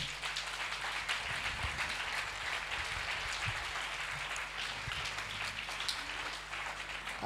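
A church congregation claps steadily during a Sunday worship service, a soft, even patter of applause heard at a distance with a low hum underneath.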